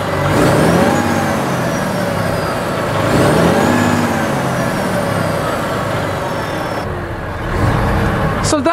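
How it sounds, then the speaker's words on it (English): A Volvo FM 460 Euro 6 truck's straight six-cylinder diesel fires up and settles into a loud, steady idle whir, rising in intensity at two points, with occasional hiss near the end. "So that is the Volvo straight 6-cylinder diesel engine."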